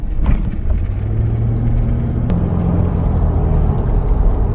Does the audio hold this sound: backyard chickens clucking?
no